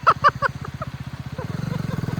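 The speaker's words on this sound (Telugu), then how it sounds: "సైలెన్సర్ ముందు రేస్ చేయి." A motorcycle revs close to its exhaust silencer, a rapid pulsing engine note that settles into a steady rising throb, with a few short voice bursts at the start.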